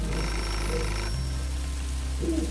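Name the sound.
telephone ringing in the video game Beholder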